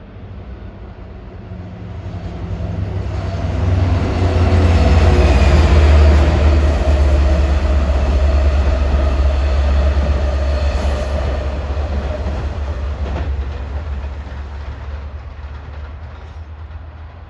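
Eastbound Long Island Rail Road train departing toward Oyster Bay on new triple track, a deep rumble of wheels and engine swelling then slowly easing, with faint rail clatter, loud and close throughout, no talking.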